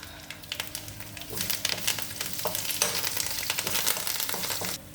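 Spices and curry leaves sizzle loudly in hot ghee, a dense crackling hiss that swells slightly and holds steady.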